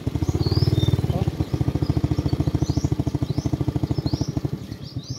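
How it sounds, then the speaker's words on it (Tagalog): A motorcycle engine chugs unevenly while crossing floodwater, its rapid pulsing loud and close as it labors near stalling, with people shouting over it. "Hapit matay kong motor na."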